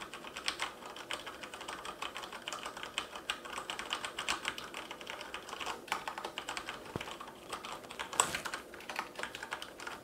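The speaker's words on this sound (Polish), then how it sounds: "Tak działają przełączniki Brown w tej właśnie klawiaturze." Keys clatter steadily on a SteelSeries Apex M500 mechanical keyboard with Brown switches, a dense, even run of close, crisp clicks lasting throughout with no talking.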